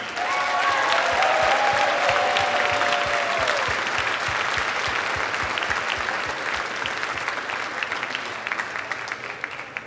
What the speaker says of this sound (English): Let's give a big round of applause to the U.S. Army